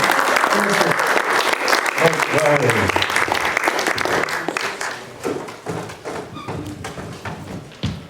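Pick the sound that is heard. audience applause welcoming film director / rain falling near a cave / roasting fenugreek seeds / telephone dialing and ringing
audience applause welcoming film director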